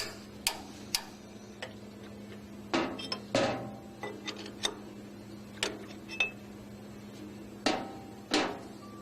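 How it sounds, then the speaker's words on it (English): A pump wrench loosens a gland nut on a Jetstream pump unit with a scatter of faint, irregular metallic clicks and clinks over a low steady hum. "Use a pump wrench to loosen the gland nut and back it out nearly all the way."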